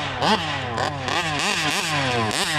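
A heavily upgraded Kraken Vesla RC car's motor revs repeatedly in quick rising and falling bursts, close and fairly loud, with no talking.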